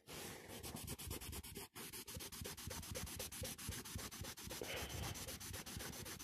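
Steady, hard rubbing of a cloth against a car surface to shift a blood stain, a continuous scrubbing rasp with quick rhythmic strokes, close and loud throughout, with a brief pause near the middle and no talking.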